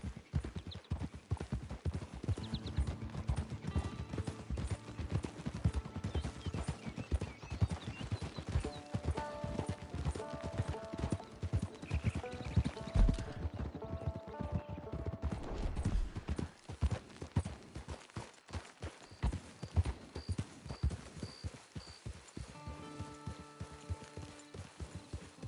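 Horses ridden in the Nioh video game clatter along with steady, continuous hoofbeats near the listener, accompanied by an occasional whinny and a faint musical background, with no talk.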